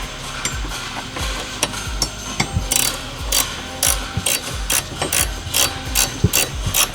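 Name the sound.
14mm ratcheting wrench tightening bolt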